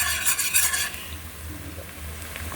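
Sautéed cabbage with pepper and seasoning, cooked with sardines, stirred in a hot pan, with a brief burst of scraping at the start before a steady, moderately loud sizzle takes over.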